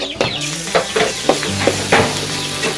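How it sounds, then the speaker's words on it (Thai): Mushrooms sizzle loudly in a hot pan as they are stir-fried, with a steady hiss broken by regular scraping strokes of a spatula, close up and with no voices. "วันนี้นะคะก็จะผัด เห็ด"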